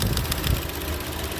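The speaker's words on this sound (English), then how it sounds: "Yeah, it's still misfiring." A 2016 Chevy Cruze engine idling while misfiring gives a brief, low, lumpy rumble at moderate level with uneven pulses.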